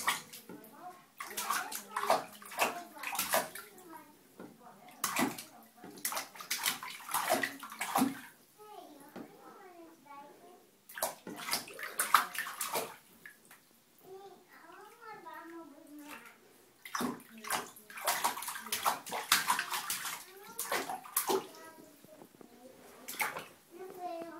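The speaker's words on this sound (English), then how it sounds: "I think you're gonna splash next in the bath." A young child splashes water in a bathtub, with repeated bursts of sloshing and splashing broken by short pauses, close and lively, while the child and an adult talk and exclaim between splashes.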